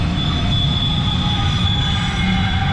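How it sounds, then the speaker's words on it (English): Long trains rolling past nearby, a loud continuous rumble of railcars with a sustained high wheel squeal and steady clatter, no talk. "Got the trains going again today."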